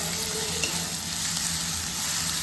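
Ginger frying with onions in a pan for spinach dal, a loud continuous crackling sizzle that holds steady throughout.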